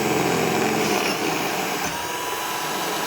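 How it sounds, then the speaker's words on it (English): A power drill bores through the steel and fiberglass body panel of a DeLorean under restoration, giving a steady, loud whine that holds unbroken for about three seconds. "Let's keep drilling."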